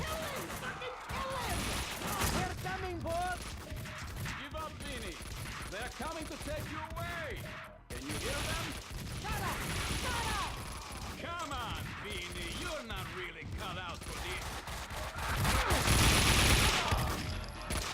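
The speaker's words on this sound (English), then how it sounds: "Who is shooting at me?" Rapid bursts of gunfire in the video game Max Payne 2, overlapping shots and clattering mechanisms in a dense firefight, with a voice talking over parts of it.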